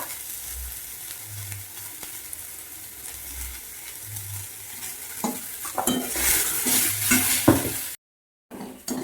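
Vegetables seasoned with turmeric and salt fry in a pan, a gentle sizzle broken by spatula scrapes and clinks against the pan, growing busier before a brief silent gap near the end.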